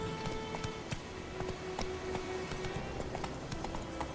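Horse hooves in The Witcher 3 clip-clop in a steady, even rhythm at a moderate pace, fairly close but quiet, over a low ambient background.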